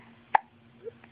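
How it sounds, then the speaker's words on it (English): A 10-week-old baby gives a single sharp hiccup, followed by a faint small vocal sound, in a quiet room. "You got the hiccups now."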